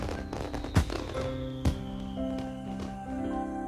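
Fireworks at a school in the Katawa Shoujo visual novel: two sharp booming bursts about a second apart over a low, sustained tonal music bed, fairly soft overall with no voices.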